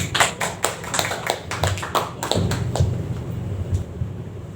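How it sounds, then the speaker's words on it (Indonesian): A church congregation claps for an evangelist in a burst of sharp, close hand claps that quickly fades, leaving a low room murmur. "Tepuk tangan dulu dong."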